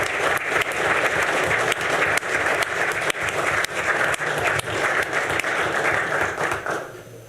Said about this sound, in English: Let's give both Luann and Chuck a big round of applause for their amazing contributions.